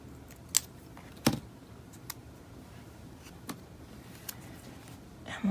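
Scissors cut paper for layering in an A5 planner, a few sharp snips spread out over several seconds, close and quiet against a faint room hiss.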